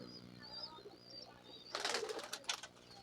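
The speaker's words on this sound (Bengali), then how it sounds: "এই কবুতরটা ধরেছি আজ 8 দিন হচ্ছে।" Caged pigeons coo softly and faintly, followed by a brief burst of wing flutter and scuffling close by.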